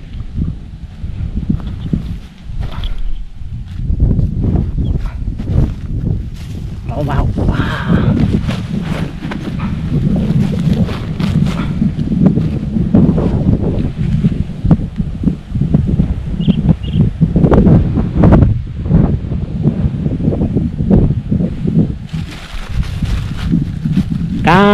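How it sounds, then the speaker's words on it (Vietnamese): Wind blowing at a riverside fishing spot buffets the microphone with a steady, close, low rumble that lasts the whole stretch, swelling in gusts without any break. "Giờ trời gió nè"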